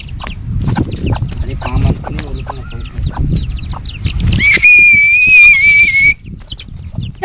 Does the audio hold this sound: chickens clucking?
yes